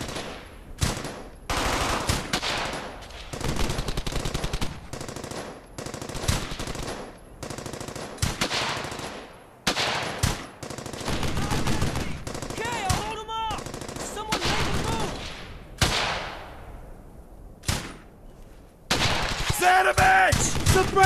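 Bursts of machine gun and rifle fire in the World War II shooter Brothers in Arms: Hell's Highway, with loud rapid volleys broken by short gaps and shouted soldier voices between the bursts.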